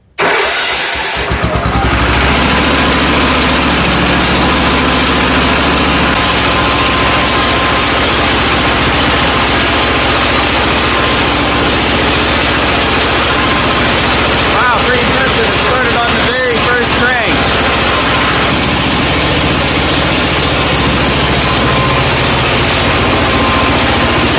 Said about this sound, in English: Clutch in, give it some throttle, pull the choke out, make sure we're in neutral, and crank it over.